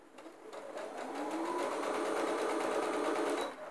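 A sewing machine runs steadily while stitching a zippered cushion cover, a close, fairly quiet rapid mechanical whir that speeds up slightly and then stops near the end.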